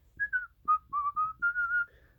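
A single person whistles a short melodic tune, clear and close, with distinct notes in a bouncy rhythm and no talking.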